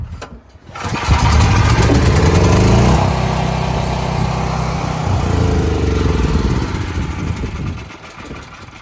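A cheap $70 portable generator starts and runs with a loud, steady mid-pitched engine drone close by that wavers and eases off toward the end, with no talk.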